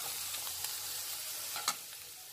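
Peas, carrots and potato pieces frying in a pan with curry leaves and ginger-garlic paste for a potato bread cutlet, a steady close sizzle with a few light stirring clicks throughout.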